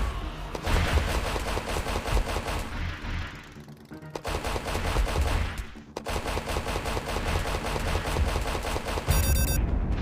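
Rapid SMG fire in the video game Re.Surs, dense automatic bursts running almost continuously, loud and close, broken by two brief pauses.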